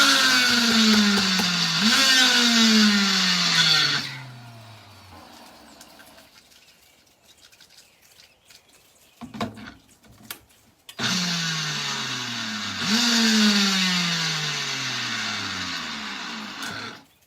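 A blender chopping wild foods whirs up to speed in two loud, close bursts, each with a rising and falling motor pitch, separated by a quieter pause with a few light knocks.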